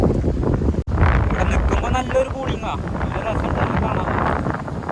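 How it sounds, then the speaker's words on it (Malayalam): Strong wind gusts across an open spot under a tamarind tree in a Theni village, Tamil Nadu, a loud steady roar of rumbling buffeting with a brief dropout near the first second. "നല്ല ശക്തിയിൽ കാറ്റ് വെച്ചിട്ടുണ്ട്"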